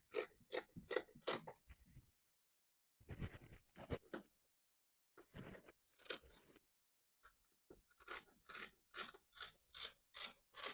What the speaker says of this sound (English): Then we'll cut the upper parts.